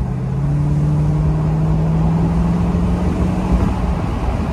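A 2009 Chevrolet Corvette engine idles and revs with a smooth, rising drone, close and loud, steady throughout with no talking.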